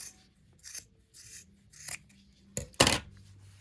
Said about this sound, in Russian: чтобы нам вот этот большой отрезок ткани не мешал, я его подрежу